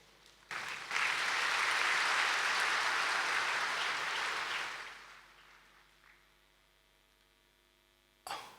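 Audience applause at a spiritual discourse: a dense, full round of clapping swells in quickly, holds for about four seconds, then fades away into near silence, with a brief noise at the very end.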